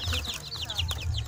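Fifteen-day-old joper chicks peep and cluck in quick, high chirps repeating through a short stretch, fairly close, over a low background hum.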